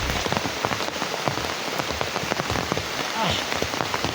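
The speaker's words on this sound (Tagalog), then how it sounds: "Ulan ka lang, bagyo ka lang." Heavy rain pours steadily onto a surface, a dense close hiss with scattered sharp drops and brief clatter throughout, with no clear talk.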